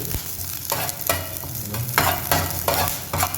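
Chicken rolls fry in hot oil, the sizzle punctuated by several distinct stirring or turning scrapes in an irregular rhythm, close and moderately loud with no talking.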